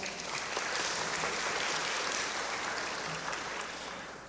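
A crowd at a lecture with a Superior Court of Justice minister in a state legislative house claps together in a thick, even wash of applause, moderately soft and sustained, tapering off at the close.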